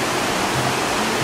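A clear mountain river in Doshi Village, Yamanashi, rushes steadily nearby as a loud, continuous broadband wash with no voices over it.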